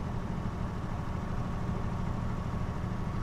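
A car engine running smoothly at steady speed, a continuous low rumble without clattering or shaking, heard alone and fairly loud throughout.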